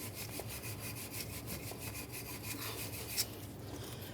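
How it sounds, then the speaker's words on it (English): A wire brush scrubs the ignition coil mating surface on a 1994-2001 Dodge Ram 1500 engine, giving rapid rhythmic back-and-forth rasping strokes, close and steady, with a slightly sharper scrape near the end and no talking. "We're going to clean up the mating surface where that ignition coil sits. Use our wire brush for this."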